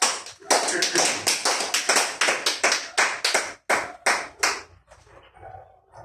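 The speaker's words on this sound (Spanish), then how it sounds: "Dale un aplauso a tu Dios." A church congregation claps in unison at a worship service, a run of about a dozen sharp, evenly spaced claps close by, then a brief trailing spatter as it dies away.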